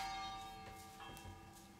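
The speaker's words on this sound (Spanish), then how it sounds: "Las campanas me acompañan." Church bells ring out in sustained, overlapping tones with a long fading decay, heard fairly close and on their own without talk.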